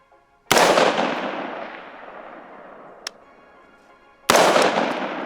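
Two loud rifle shots fired outdoors at a steel target, each a sharp blast with a long rolling echo, separated by a faint metallic ping from the steel.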